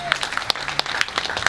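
A church congregation claps in a short burst of scattered, brisk applause, with a voice heard alongside it.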